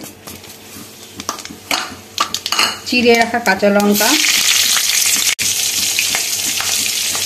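Whole spices and green chilli drop into hot oil in a wok, breaking into a loud, steady sizzle that spreads over the second half, with utensil clatter before and a brief spoken phrase.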